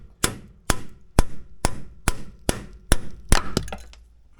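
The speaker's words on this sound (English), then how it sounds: "I'll just hammer this in the rest of the way." Eight or nine sharp metallic hammer blows land at a steady rhythm, driving a rusty differential cover into place on a vehicle. The strikes are close and ring briefly.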